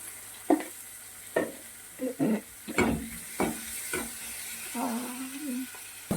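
Onions with a little salt frying in a pan, stirred with repeated scraping strokes over a faint sizzle; a few soft, separate strokes spread through the clip, with no talk.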